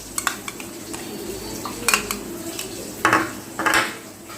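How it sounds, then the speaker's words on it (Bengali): A spoon scooping yogurt into a tiffin box in a kitchen, making a few light metallic clinks and scrapes over a soft background hiss, with no talking. "আমি একটি টিফিন বক্স নিয়েছি, দিয়ে দিচ্ছি 4 টেবিল চামচ"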